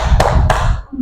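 Children clapping their hands during an animal-themed clapping game in a classroom, two sharp, close claps about a third of a second apart over a murmur of low voices.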